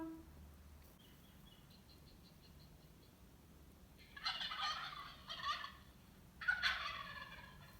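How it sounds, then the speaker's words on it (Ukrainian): A turkey gobbles in a few rapid, warbling bursts after a quiet start, moderately close. "Це індик."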